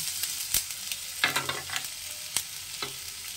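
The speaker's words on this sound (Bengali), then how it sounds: "রসুনটা হয়ে গেছে, দিয়ে দেবো আদা কুচিটা।" Chopped ginger goes into oil already frying garlic, crackling and sizzling up close while a utensil stirs and scrapes the pan in several distinct strokes.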